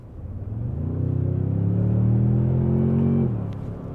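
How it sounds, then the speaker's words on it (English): A 2024 Toyota Tundra pickup accelerating, its engine rising in a smooth, loud, close-up growl that builds for about three seconds before easing off, with no talking. "I'm going to accelerate just now."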